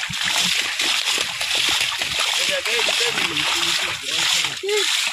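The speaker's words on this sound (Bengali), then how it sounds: "তোমরা সবাই দেখতে পাচ্ছ শুটিং এর বাইরে জল ছাঁচা হচ্ছে" Water is splashed and sloshed outdoors in a rhythmic series of wet bursts, loud and close, while people talk over it throughout.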